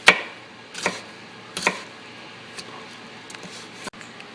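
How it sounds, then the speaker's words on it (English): A few sharp knife chops through tomatoes on a cutting board, spaced irregularly, with quieter taps and handling sounds in between. "So we've got our tomatoes chopped up"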